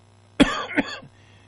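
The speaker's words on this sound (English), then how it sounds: "Sorry, I still got the cough, people." A single raspy cough from a person with a lingering cough on a radio talk show, followed by a second shorter hack, close to the mic, with a brief throat-clearing tail and no talking.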